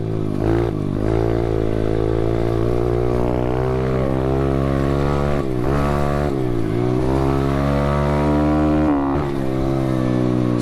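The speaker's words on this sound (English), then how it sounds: "And then we hit the rev limiter. The bike just kills itself." A small pit bike engine, an SSR-type 70 to 140 cc, droning loud and close at steady high revs with slight dips and surges, no voices.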